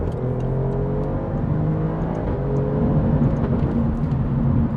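An Alfa Romeo Giulia Quadrifoglio's V6 engine pulls hard under acceleration, heard from inside the car as a steady rising drone with shifting tones and road whir, and no one speaking.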